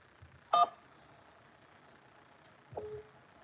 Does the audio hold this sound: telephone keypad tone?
yes